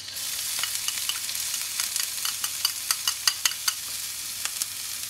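Three shallots fry in a little oil in a pan for hunter sauce, giving a steady close sizzle with a run of sharp crackles and pops that grows busier toward the end, and no voices over it.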